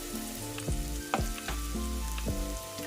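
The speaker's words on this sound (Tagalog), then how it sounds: "Igisa lang natin yung paminta at saka laurel." Black pepper and bay leaves sautéing in oil for squid adobo, with a steady close sizzle and a few stirring knocks.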